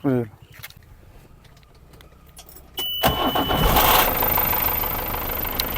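A 47-year-old stock-condition Hindustan Ambassador car cranks briefly after a quiet lead-in, then catches and settles into a loud, steady idle close by.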